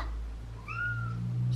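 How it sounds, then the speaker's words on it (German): A house cat meows once with a rising, drawn-out call partway through, close and fairly clear over a low steady background hum, with no talking. "Und jetzt könnt ihr vielleicht Nala miauen hören"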